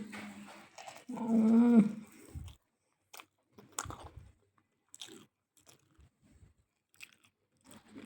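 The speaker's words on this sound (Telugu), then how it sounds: "ఇప్పుడైతే తింటున్నాను కదా, ఎంత టేస్ట్గా ఉందోనండి" Someone eating a home-cooked dish, with close, crisp crunching bites and chewing scattered across quiet pauses, and a brief hum of voice near the start.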